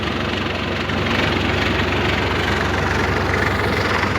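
A diesel forklift engine runs at idle, a loud, steady low rumble with a rhythmic knocking chug and some vibration, close and continuous.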